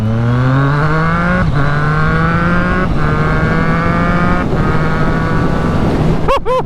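A Triumph Street Triple RS motorcycle's stock engine revs hard through several gears, each pitch climb broken by quick shifts, a loud close howl that ends in a sharp blip.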